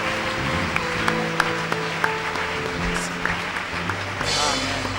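A church congregation applauds in praise of the Lord, a steady wash of clapping that blends with background music and voices throughout.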